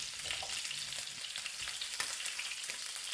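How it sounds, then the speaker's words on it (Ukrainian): Pork ribs fry in a pan over high heat, with a dense, continuous sizzle and crackle close by and no voices. "Смажу на сильному вогні до рум'яної скоринки."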